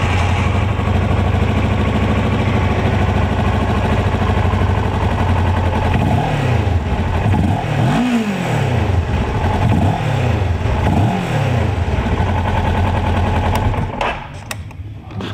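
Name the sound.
2007 Kawasaki EX650R motorcycle engine starting and running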